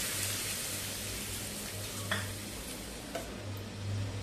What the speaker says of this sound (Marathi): तयार फोडणी टोमॅटोच्या चटणीवरती घालूया